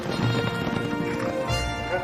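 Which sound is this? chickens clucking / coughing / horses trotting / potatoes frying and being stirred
horses trotting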